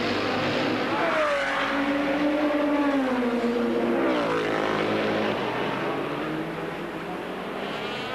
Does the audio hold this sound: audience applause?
no